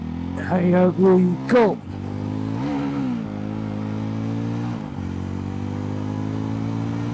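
A Jawa 360 motorcycle engine runs steadily in first gear, with a loud, even drone and slight throttle shifts. A voice speaks briefly at the start.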